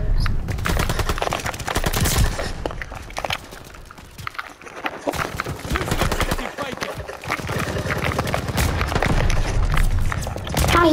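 Gunfire in the video game Call of Duty: Vanguard, including shotguns: loud, close shots and bursts arrive in irregular clusters with booms and chaotic battle noise, easing briefly mid-way before picking up again.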